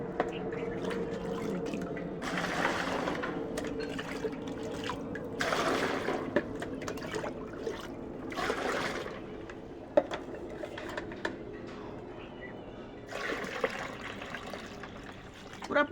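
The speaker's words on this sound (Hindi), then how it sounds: "और इसमें पानी भर दूँगी।" Water running into a bucket for making mustard cake fertiliser, a faint, uneven trickle and splash that comes and goes, with someone talking over it at times.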